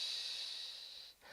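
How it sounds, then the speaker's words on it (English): Close, quiet hiss of a long deep breath out through the nose in a calm breathing exercise, a steady airy rush that tapers and briefly stops before the next breath starts. "Let's do one more of those. Breathe in, fill up that tummy, and then breathe out."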